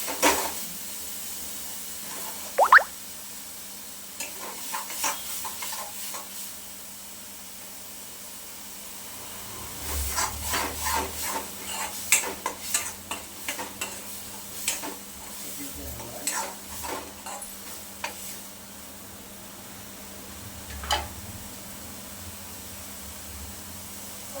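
Ground masala paste fries in oil for a chicken gravy, a low hiss broken by bursts of spoon-scraping and pan clatter, busiest in the middle stretch, with brief faint voice sounds here and there.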